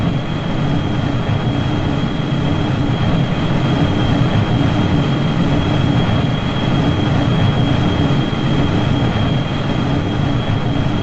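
Jet engines of a small single-stage-to-orbit spaceplane in Kerbal Space Program roar steadily through a rough takeoff, a loud, continuous broadband rumble with a faint high whine and no talk.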